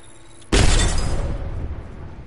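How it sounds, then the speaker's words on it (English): An Arc Star grenade goes off in a PS4 shooter, a sudden loud electric burst after a brief quiet lead-in, then a broad crackling roar that slowly fades. "Throwing Arc Star."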